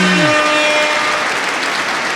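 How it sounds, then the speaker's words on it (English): A short burst of loud, close clapping fills a podcast studio, dense and steady for about two seconds with no talking over it. "Round of applause for that shit."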